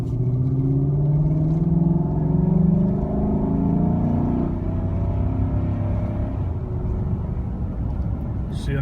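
A 2016 Chevrolet Silverado with a 5.3 engine and a K&N intake rumbles steadily up close and rises slightly as it revs, with a low droning tone throughout.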